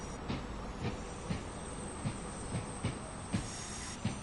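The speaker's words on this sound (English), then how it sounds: "Here we go, the beautiful Avanti Class 390, the BR Class 390 Pendolino." Avanti Class 390 Pendolino electric train running in Train Sim World 5: a steady hiss and rumble with regular clickety-clack beats from the wheels passing rail joints, continuous and moderately loud.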